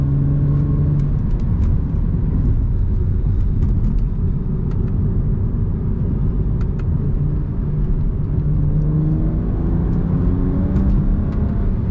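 Steady, loud in-cabin drone of a stock BMW E92 335is with a DCT gearbox while driving, a continuous low engine and road rumble with shifting tonal bands and no talk.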